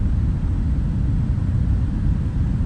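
Airliner engines in Microsoft Flight Simulator, picked up by a hovering drone camera during a London to New York flight: a steady, loud low rumble with broad roar, unchanging and alone.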